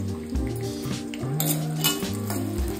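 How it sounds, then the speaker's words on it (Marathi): Fox nuts (makhana) roasting in ghee in a metal pan, with repeated clinks and scrapes of a spoon against the pan over a soft sizzle, close and fairly loud. "मखाणे मस्त असे खरपूस भाजून घ्यायचे।"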